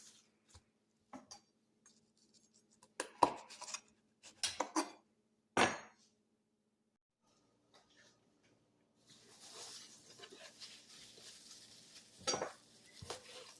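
A knife chops coarsely through white vervain plant stems on a cutting board in a few sharp, close, separate strikes between quiet gaps. A soft rustle of handled plant material follows.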